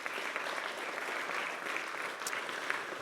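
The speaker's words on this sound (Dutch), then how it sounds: "Ik wil heel graag nog even een applaus houden voor de boden en de griffiers" Applause at a closing council debate in Damwâld, Dantumadiel, an even, dense round of clapping from a roomful of people at moderate distance that holds steady from start to finish.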